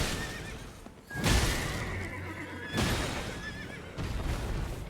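Repeated horse neighs and whinnies, three loud bursts spaced about a second apart, sound close against a low background rumble with faint hoof-like clatter.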